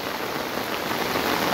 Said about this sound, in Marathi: भरपूर पाऊस पडतोय, जोरात पाऊस पडतोय, धो पाऊस पडतोय